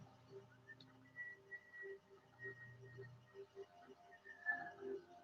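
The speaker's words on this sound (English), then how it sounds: "and then whistle it out." A faint, slow whistling exhale during a seated chair yoga breathing exercise, soft wavering tones rising and falling in gentle pulses over several seconds, quiet and close with no speech.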